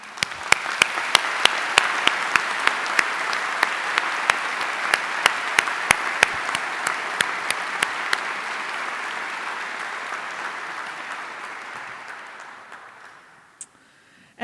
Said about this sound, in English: I ask for your recognition through applause